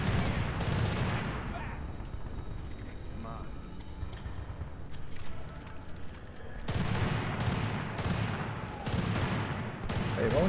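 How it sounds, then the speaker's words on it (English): Gunfire in the video game Battlefield Bad Company 2 comes as dense bursts of shots and rattling automatic fire, loud and close, with a brief lull before the volleys resume. Someone talks over the shooting. "I shot you once already."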